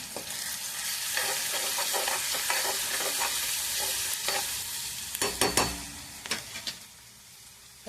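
Chopped onion frying in hot oil for a drumstick masala fry, a steady near sizzle with repeated spatula scrapes and stirring knocks, louder clatter near the end.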